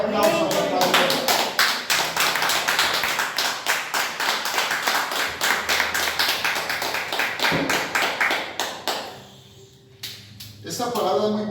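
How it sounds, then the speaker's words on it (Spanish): A church congregation claps together in a strong, fast burst of applause that fills the room, fading briefly near the end before a few claps resume, with voices mixed in. "¿Cuánto le dan un fuerte aplauso a la Padre?"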